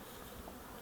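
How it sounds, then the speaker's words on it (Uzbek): Honeybees flying in and out of hive entrance holes at an apiary in Samarkand, a quiet, steady buzzing hum lasting under a second. "Arilar kirdi chiqdida qiynalyapti."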